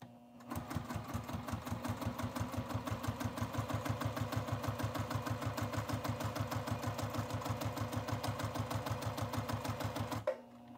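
A sewing machine stitches a zipper overlay on a foldover pouch, a close, steady run of evenly spaced needle strokes lasting about ten seconds before stopping abruptly.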